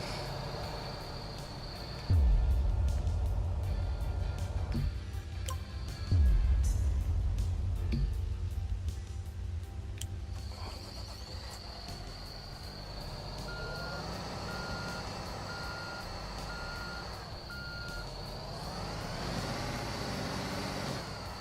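Truck reversing in Construction Simulator 2, a steady reversing beep over a low diesel engine rumble, with two loud air-brake or engine bursts early on and a second intermittent beep pattern later, no voices.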